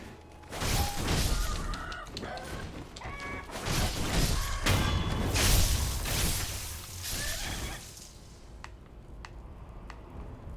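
Roosters in the Sekiro game squawk and honk in repeated loud bursts against clanging combat noise, then fade to quieter sharp clicks at the end.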